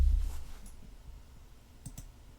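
Two sharp computer mouse clicks land close together near the end while someone clicks a plus button in software, a faint low rumble fading at the start and quiet room tone between.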